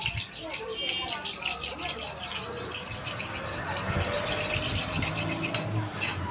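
Rough, continuous scraping of a sharpening stone block rubbed back and forth against a surface, steady and close, with a dense hiss and no clear pauses.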